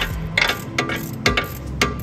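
A ratchet loosening the prop shaft bolts on a Land Rover Discovery 2, close and clear, with four short bursts of rapid metallic clicking separated by brief pauses.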